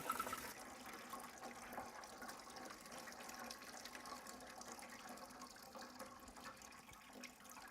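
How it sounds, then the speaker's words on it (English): Radiator coolant drains out of a car during a flush, a faint, steady trickling and splashing of liquid that runs continuously and quietly throughout. "You're going to want to let that drain out for a while. It's going to drip for a long time"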